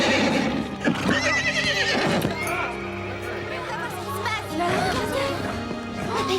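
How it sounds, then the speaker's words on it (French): A horse whinnies loudly several times, with hooves clopping and people speaking nearby in a busy scene. "Ce n'est pas le cheval de Véronica?"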